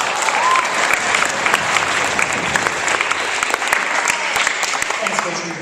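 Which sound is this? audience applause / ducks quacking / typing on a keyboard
audience applause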